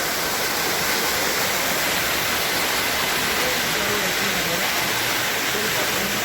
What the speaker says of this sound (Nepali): यहाँ बारेर पानी यता डाइभर्ट गरेको छ